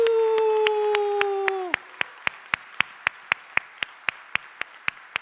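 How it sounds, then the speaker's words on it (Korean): A church congregation claps during an all-generations evening service. A held musical tone fades out first, then evenly spaced claps follow in a brisk, steady rhythm, crisp and distinct against a quiet room. "우리 큰 박수로 축복하겠습니다"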